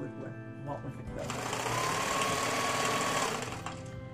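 Sewing machine stitching a flannel drain bag apron, a close, steady mechanical whirr that starts after a brief pause and runs continuously before slowing, with a voice talking over it.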